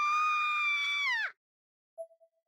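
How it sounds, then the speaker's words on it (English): A sustained, high, tonal scream in the Corpse Party Blood Drive video game holds steady for over a second, then drops sharply and cuts off, followed by silence and a few faint fading electronic blips. "Couldn't help but scream."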